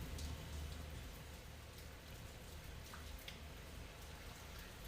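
Steady rain falls outdoors while cake-decorating foliage paste is prepared, a constant dense hiss with scattered drops throughout, even and moderately quiet, with no speech.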